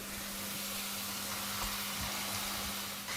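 Minced meat fries in a pan with a steady, soft, even sizzle throughout and no voices.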